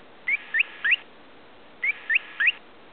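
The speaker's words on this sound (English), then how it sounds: "When guinea pigs are stressed, they make this kind of noise." Stressed guinea pig, two identical bursts of three short rising chirpy whistles about a second and a half apart, clear and fairly close over a quiet hiss.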